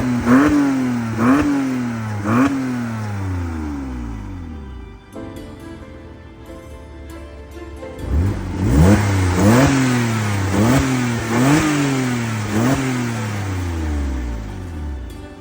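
A Porsche Boxster 987 engine is revved repeatedly in sharp rising bursts, pausing briefly before another series of throttle blips, loud and close with no talk.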